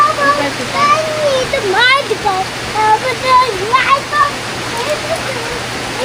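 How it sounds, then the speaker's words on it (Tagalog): Heavy rain from a typhoon pours down as a dense, steady wash of noise, while nearby voices talk throughout on top of it. "Ito na yung ulan. Malakas na."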